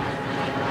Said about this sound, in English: Sounds like a private plane.